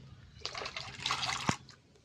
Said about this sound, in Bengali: কচু শাক সিদ্ধ হওয়ার জন্য কড়াতে জল দিয়ে দিচ্ছি ভিজিয়ে রাখা ছোলাটা দিয়ে দিচ্ছি